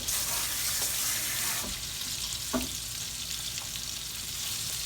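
Chicken wings fry in oil in a skillet with a steady, loud hiss and crackle, broken by a couple of faint clinks and shifts of the pieces, with no talk.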